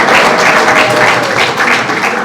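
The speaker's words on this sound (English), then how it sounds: "A very big round of applause to Paula." A large audience at an evening event gives a loud, continuous round of applause, the dense clatter of many hands sustained evenly throughout.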